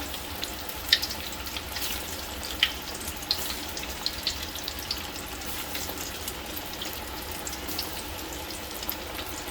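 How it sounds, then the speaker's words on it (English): Catfish pieces frying in hot oil give off a constant hissing sizzle, with scattered sharp pops and crackles, close to the pan and without any voices. "You're going to try to get them in as quick as you can so that they cook fairly even."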